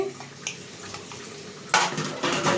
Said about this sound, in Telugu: ఆ గిన్నెలు దోమేస్తాను చూసారా ఎన్ని గిన్నెలు ఉన్నాయో ఆ గిన్నెలు దోమేస్తా